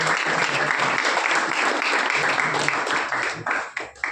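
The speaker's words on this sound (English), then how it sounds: "So big round of applause to them." Applause from an audience at a Goa lacrosse association ceremony honouring national medalists, a dense, even clapping that holds for about four seconds before thinning into scattered claps.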